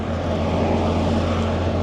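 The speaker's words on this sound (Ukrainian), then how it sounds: "Ну що, Красива картинка, як поїхали два трактора." Two Solis 50 tractors on a nut farm drive off together, their diesel engines giving a steady, loud, droning hum with a continuous low rumble.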